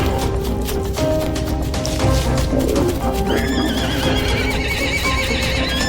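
Zebra herd galloping and calling in the wild after a lion hunt, a dense rumble of hoofbeats with repeated whinnying calls, loud and continuous throughout.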